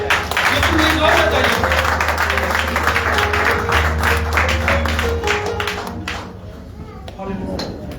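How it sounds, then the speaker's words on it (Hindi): A church congregation breaks into applause during a Sunday service, a dense wash of clapping that swells and carries on for several seconds before thinning out, with voices mingled underneath. "ताली"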